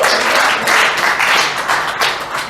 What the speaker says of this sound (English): a round of applause real quick.